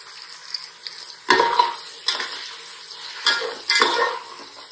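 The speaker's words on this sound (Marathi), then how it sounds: "टोमॅटो मऊ होईपर्यंत आपल्याला आता हे परतायचंय." Tomatoes are sautéed in a pan over a high flame for chicken biryani, with a faint sizzle beneath several distinct scraping stirs and clinks of a spoon against the pan, spaced a second or so apart.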